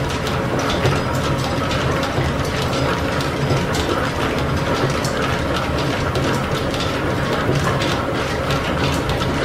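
An old steam-powered lathe cuts threads on an oversize steam engine piston at about 400 RPM, giving a steady, dense mechanical clatter of gears and ratcheting with no letup throughout.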